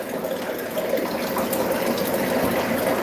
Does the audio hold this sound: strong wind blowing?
no